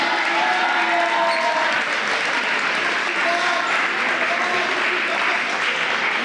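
Steady applause rises from spectators in a school gym at a volleyball match, continuous and fairly loud throughout, with crowd voices and faint shouts blended into the clapping.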